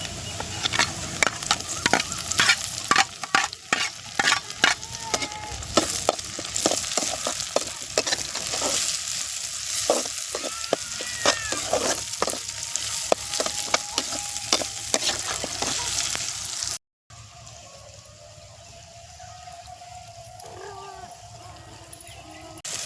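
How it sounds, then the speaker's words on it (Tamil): Onion, tomato, green chili and curry leaves sauté in a pan while preparing a dry stingray fish fry, giving a steady sizzle with repeated stirring and scraping strokes for most of the clip, then a quieter frying hiss after a brief pause. "தக்காளி வெங்காயம் நல்லா வதங்கிடுச்சு"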